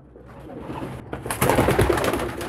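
Domestic pigeons kept for squab breeding coo in soft, low, throaty phrases, with a brief rustle and flutter of wings as the sound grows louder, close by with no talk.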